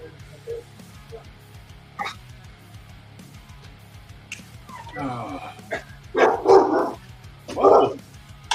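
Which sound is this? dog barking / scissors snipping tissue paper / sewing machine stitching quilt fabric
dog barking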